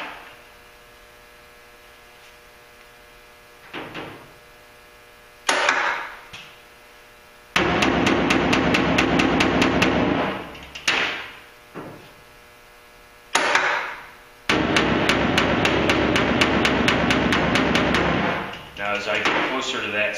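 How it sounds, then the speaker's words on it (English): Bursts of harsh metallic scraping and grinding as a hammer drags across sheet metal, starting and stopping in several loud passes. "Hammer, I'm not beating straight on it, I'm dragging it along."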